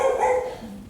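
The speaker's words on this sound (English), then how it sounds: "There's Rex barking for some reason again" A tamed creature in the ARK video game gives one short, loud, bark-like call up close, which fades out within a second.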